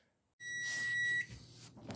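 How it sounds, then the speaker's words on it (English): A single sustained electronic beep, high-pitched and steady, rings out for under a second after a quiet start, followed by faint rustling, from an oven timer while banana bread bakes. "I almost caught the first beep"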